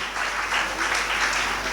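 An audience of students and staff at a school speech event breaks into applause, a brief, even burst of many hands clapping that holds at moderate loudness throughout.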